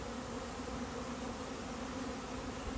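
Honey bees buzz around a row of backyard hives, one of them queenless and light on activity, making a steady, even drone throughout with no talking.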